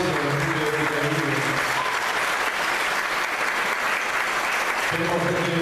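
An audience at a theatre bar show in La Plata bursts into sustained, dense applause, with a speaker's voice heard briefly at the start and again as the clapping continues.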